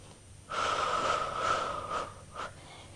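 Breathing during an intermediate Pilates mat exercise: a long forceful exhale through the nose and mouth lasting about one and a half seconds, followed by two shorter puffs, close and fairly soft.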